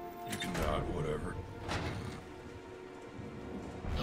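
Rain falls steadily in the video game Heavy Rain, a constant close patter with the low roll of thunder, while voices talk over it throughout.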